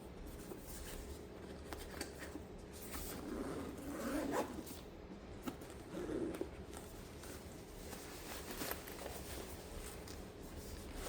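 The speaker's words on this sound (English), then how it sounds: "And we'll go ahead and unzip it here." Faint zipper rasps come from a DJI Mini 5 Pro drone carrying case being unzipped, in two short pulls against a soft room background.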